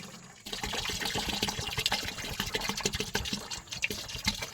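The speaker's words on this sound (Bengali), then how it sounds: "তেলটা আগে ঢেলে দিয়ে নিই।" Fuel poured steadily into the engine tank of a river boat on the Matla, a continuous gurgling stream that starts after a brief pause and runs on close and unbroken.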